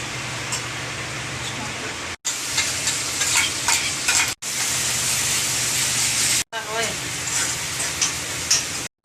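Green chilies and spices frying in hot oil for homemade vada pav, a loud, steady sizzle broken by brief gaps, close up and with no voice over it.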